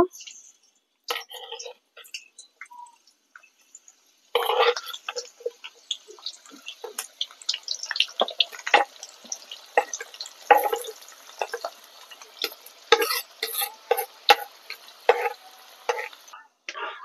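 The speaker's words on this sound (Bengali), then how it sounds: "তেল গরম হয়ে গেছে, এবার আমি পেঁয়াজটাকে ভেজে নেব।" Onions frying in hot oil in a wok give off a crackling, sputtering sizzle with scattered stirring scrapes, moderately close, after a brief quieter lead-in.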